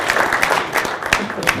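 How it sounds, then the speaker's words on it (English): Audience applause after an entrepreneurship lunch presentation, a steady burst of clapping from a modest crowd with brief peaks, heard alone without talk. "A round of applause for Jerry Barber."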